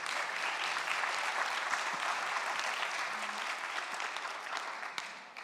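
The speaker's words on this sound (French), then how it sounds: "On peut les applaudir." A seated audience at a research event in Paris applauds steadily for several seconds, a dense even clapping that thins slightly at the end.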